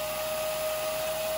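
A vintage 1970s Clairol Son of a Gun men's hair dryer, model TD1, rated 1200 watts, runs with a steady, close whirring hum and a high motor whine, loud and unbroken.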